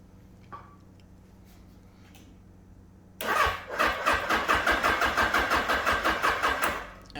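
A 1981 Suzuki GS750 motorcycle engine cranks on its starter after a dose of starting fluid, a loud, even rhythmic chugging of about a dozen turnover strokes that begins abruptly after a quiet lead-in and never catches.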